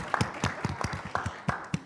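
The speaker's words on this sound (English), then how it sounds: "we should give her a round of applause" Scattered clapping from a small group, uneven and not very loud, a short patter of hands.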